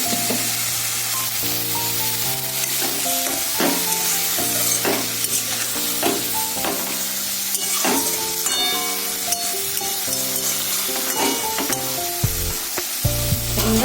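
Vegetable curry for a Bengali chorchori sizzles and crackles steadily in a pan, with clinking stirring strokes and a dip in the sizzle near the end as a little water goes in; no talking.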